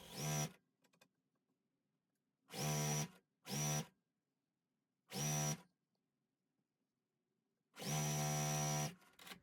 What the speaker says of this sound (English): I will sew the right strip on